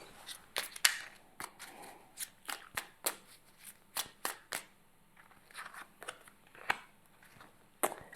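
A deck of mirror-hours oracle cards is shuffled by hand: a run of crisp riffling snaps and slaps, irregular and close, alone with no voice.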